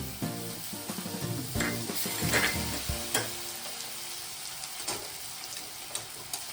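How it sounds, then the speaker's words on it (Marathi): Ground masala paste of ginger and garlic frying with mixed winter vegetables for Bhogichi bhaji, stirred in the pan; steady close sizzle with repeated scraping strokes of the spoon throughout, no talking. "आता हे वाटण पण होऊ देणार छान परतून घेणार"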